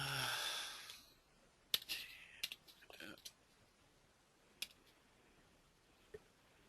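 Sparse, faint clicks and a few quick taps on a computer keyboard in a quiet room while a CAD plumbing program is used, with a breath or sigh at the start.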